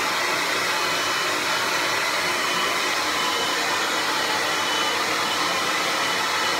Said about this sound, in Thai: ก่อนอื่นต้องเป่าผมก่อนนะคะ